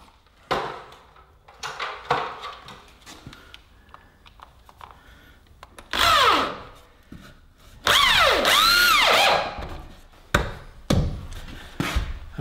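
A power drill drives screws into timber while a heavy-duty garage workbench and shelves are built. Short whirring bursts ramp up and down, with two longer runs in the middle, between knocks and handling noises.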